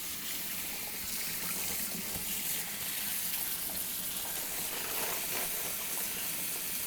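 Tap water runs in a steady, moderately loud gush as a tie-dyed bedsheet is rinsed beneath it, with faint splashing and no voices.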